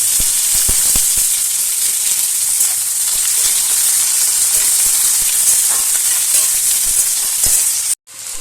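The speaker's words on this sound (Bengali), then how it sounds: "শুকনো লঙ্কা তেজপাতা ফোড়নে দিয়ে এবার আমি পেঁয়াজগুলো দিয়ে দেবো" Onions fry in hot oil with dried chili and bay leaf, giving a loud, steady, close sizzle and hiss with faint stirring clicks throughout, which cuts out briefly near the end.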